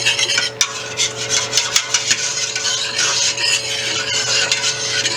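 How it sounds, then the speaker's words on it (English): Chicken and dumplings being stirred in a pot, giving a steady, continuous scraping and rubbing sound that is close and fairly loud, with a low background hum and no talking. "I'm going to stir that for just a second."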